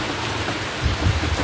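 Heavy rain pours down in a dense, steady hiss, with a deeper low rumble of water drumming on a surface swelling toward the end.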